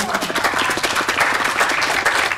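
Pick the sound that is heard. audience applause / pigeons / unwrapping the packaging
audience applause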